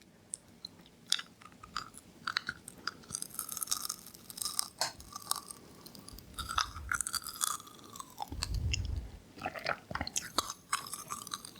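Close, wet chewing of chewy sour vegan candy, with soft sticky mouth sounds and occasional small crunches, in a steady irregular rhythm with no talking.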